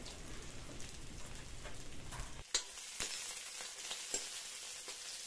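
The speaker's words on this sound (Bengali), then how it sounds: "পেঁয়াজ আর রসুন সামান্য ভেজে নেব, তারপর সাথে টমেটো কুচিটা দেব।" Chopped onion and garlic frying in a pan, a faint crackling sizzle like light rain with sharp spatter pops, a sudden shift after a stir partway through, no voices.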